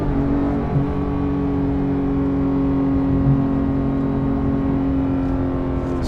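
A Porsche 911 GT3 Touring with manual gearbox cruises in gear, its engine giving a steady, even drone with a strong low hum, loud and close throughout, with no voices.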